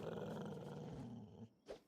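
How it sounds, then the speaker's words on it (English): Dogs in the video game Kenshi growl in a low, rumbling, continuous snarl that fades near the end, followed by one brief louder growl. "these dogs are just beasts"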